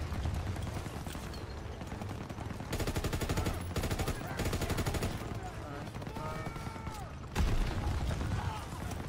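MG42 machine gun fire in the Call of Duty WW2 campaign, sustained rapid bursts of gunfire with shorter volleys and mechanical clatter in a busy battle mix, with voices shouting over it.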